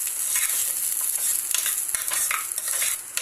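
Paneer pulao ingredients fry in a pan over a medium flame, with a steady bright sizzle and occasional stirring scrapes and clinks, no voices.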